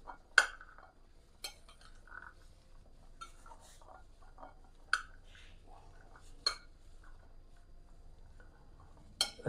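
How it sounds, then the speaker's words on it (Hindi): Potatoes, chickpeas and black-eyed beans being stirred together in a bowl for a chaat salad, giving a few sharp clinks of a spoon against the dish among soft, quiet scraping and patter, close by with no talk. "पहले हम इन तीनों चीज़ों को अच्छे से मिक्स कर लेंगे।"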